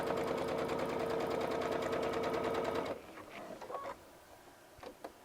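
Brother DreamWeaver XE sewing machine stitching fabric binding, a loud, fast, steady mechanical rattle of stitches for about three seconds that then stops, leaving faint handling clicks and soft rustles.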